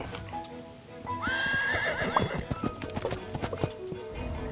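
A horse named Rudnik whinnies loudly in a rising, wavering neigh, then hooves clip-clop in an uneven series of close knocks, with faint background sounds throughout.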